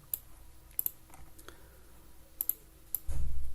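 Fingers tap a computer keyboard in scattered, light clicks with a few quick double strokes, close and quiet, and a low rumble comes in near the end.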